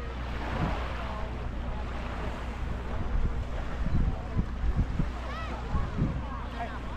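Caribbean beach waves at Ocean Cay wash in continuously under wind noise, with people talking nearby and occasional louder surges.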